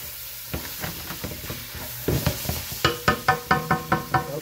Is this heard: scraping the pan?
yes